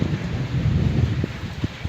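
Steady rain with gusting wind in Karak, a dense wash of noise with a few low thumps toward the end, close and continuous with no voices.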